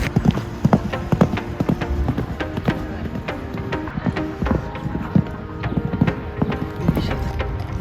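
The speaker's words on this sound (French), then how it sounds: "Il y a Alex qui vient de se mettre à cheval" Horse hooves clip-clop in a quick, steady rhythm at a riding competition, close and fairly loud over a busy outdoor background, with several horses moving across the ground.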